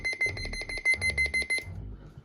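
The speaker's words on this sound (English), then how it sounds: "that's the siren test on the GPX A390" A shrill electronic siren test tone from a GPX A390 radio pulses rapidly and steadily for about a second and a half, then cuts off, leaving a faint low rumble.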